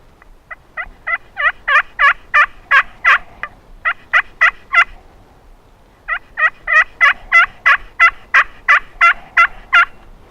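A new HS Undertaker turkey call, a box call fresh out of the box, works out two long runs of sharp, rhythmic yelps, loud and close, separated by a brief pause, with no talking.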